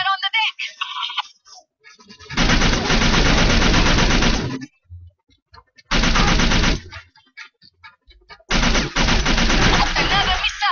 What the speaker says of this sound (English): Gunfire on the deck!